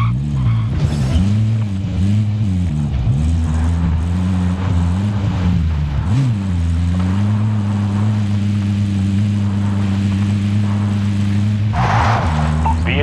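A vehicle in a modern military shooter game drives with a steady, loud engine drone whose pitch rises and falls as it shifts and turns, with a brief rougher burst near the end.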